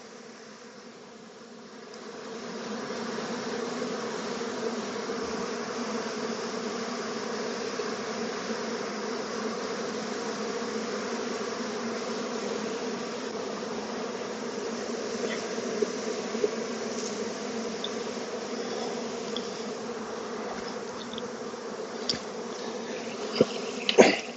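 A dense, steady buzz of a honey bee swarm fills the air, continuous and close, with a few faint clicks and knocks near the end.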